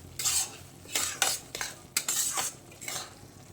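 Semolina roasts in a pan over a low flame while a spoon stirs and scrapes it, giving repeated short, gritty strokes in an irregular rhythm, close and fairly quiet, with no voices.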